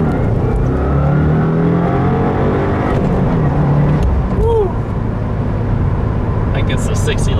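A tuned 2015 Subaru WRX with a Stage 1 map pulls hard under acceleration with flat-foot shifting, its pitch climbing in steady rising bands, with loud road and wind noise throughout and brief voices near the end.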